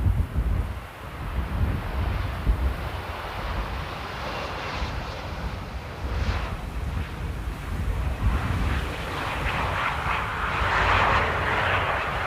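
An Embraer E2 jet airliner lands at Amsterdam Airport on a windy day, its engine roar a steady, distant rumble mixed with heavy wind noise and swelling slightly toward the end.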